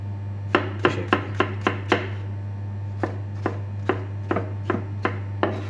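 Knife chopping tomatoes on a board, about fifteen crisp, evenly spaced cuts in two runs separated by a short pause, close and clear over a steady low hum, with no talking.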